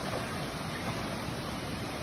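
Water rushes steadily through a stream below Chet Khot waterfall in Kaeng Khoi, Saraburi, Thailand, a dense, even, close-up hiss and gurgle with no voices.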